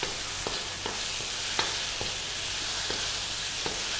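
Slit okra going into a hot pan for Malaysian fish head curry, with a steady broadband sizzle and a few soft stirring clicks throughout, close and moderately loud, no talking.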